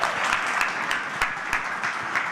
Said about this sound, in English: I think we should all give you a round of applause.